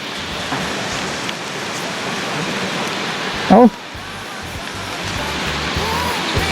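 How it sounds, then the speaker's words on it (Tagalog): Steady, dense rainfall hissing across the whole clip, loud and continuous, with a brief louder burst midway. "Lumantak naman ang ulan."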